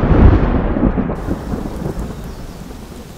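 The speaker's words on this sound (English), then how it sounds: "Moto hasn't found Nyota, but raindrops are falling, washing not only Nyota's traces, but Moto's markings as well." Rain falling with a heavy thunder rumble that peaks at the start and slowly fades, leaving steady rain patter behind.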